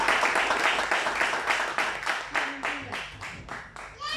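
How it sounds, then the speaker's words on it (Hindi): A church congregation applauds together, a dense run of claps with a rhythmic, pulsing quality, fairly close and lively, with a voice faintly present underneath. "क्या ऐसे खुदा के आप तालियां बजाएंगे जो हमें ढूंढने के लिए आ गया?"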